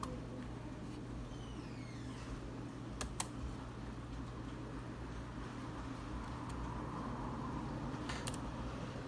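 Quiet keystrokes on a computer keyboard while an equation is entered into an online graphing calculator, with a few sharper clicks against a steady fan hum and no talking.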